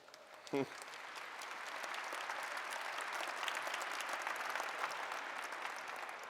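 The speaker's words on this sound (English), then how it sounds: "His name's an applause line." Applause from a large dinner audience at an annual dinner speech, a broad wash of clapping swelling after a short vocal sound and continuing steadily.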